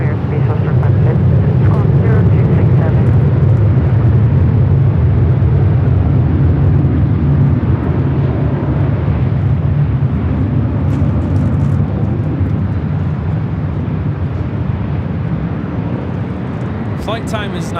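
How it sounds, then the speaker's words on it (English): A United Airlines Boeing 787-10 Dreamliner arriving on short final at Los Angeles airport makes a steady, loud jet roar that holds throughout and eases slightly toward the end. "Our next arrival is United Airlines Flight 38 coming in from Tokyo Haneda on the 787-10 Dreamliner."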